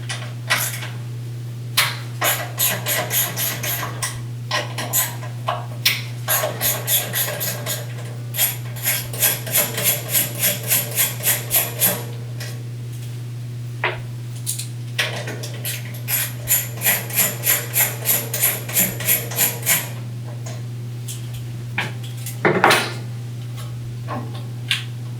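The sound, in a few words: removing the ignition coil from a Honda engine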